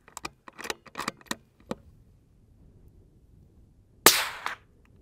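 Suppressed .22LR rounds fired through a Dead Air Mask suppressor: a quick series of about seven sharp, dry cracks close together, a fainter shot shortly after, then a louder, harsher report with a brief ringing tail.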